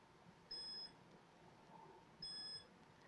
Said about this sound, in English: I got 3 solid beeps. I guess that means it's rebooting.